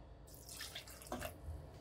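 Water splashes and trickles close by as it is poured into a pot of samba rava (broken wheat) for cooking, soft and uneven over a couple of seconds.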